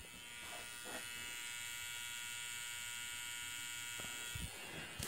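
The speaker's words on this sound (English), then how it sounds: "there's that buzzing sound." A modified sine wave power inverter on a solar setup gives off a steady, harsh electrical buzz with dense harmonic whine that holds unbroken throughout, fairly close and alone apart from a couple of faint knocks.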